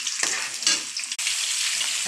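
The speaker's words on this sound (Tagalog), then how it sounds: "ginisa ko na ngayong bawang at sibuyas" Garlic and onion sautéing in a hot pan, a steady loud sizzle with stirring scrapes, close up and with no talk.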